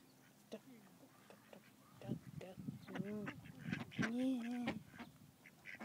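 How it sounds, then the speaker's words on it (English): Ducks quack in a series of close, nasal calls while people feed the birds, and voices talk in between and over the calls. "Duck."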